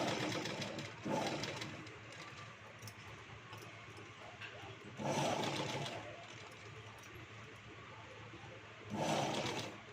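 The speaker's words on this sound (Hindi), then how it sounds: "अब इसको सिलाई कर रही हूँ मैं।" A sewing machine stitches slowly through canvas for a cloth potli pouch, a soft continuous whir with three louder bursts as the pace picks up, heard faintly at a modest distance.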